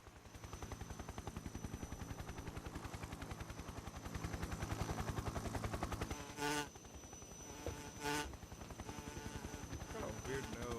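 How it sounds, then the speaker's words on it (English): Hornets buzzing in Metal Gear Solid 3: Snake Eater, a steady dense insect drone running throughout with game sound effects, including two sharp bursts, layered on top. "Hornets."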